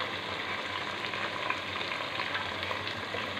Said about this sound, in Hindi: अब हम इसको 5 से 10 मिनट अच्छी तरह भून लेंगे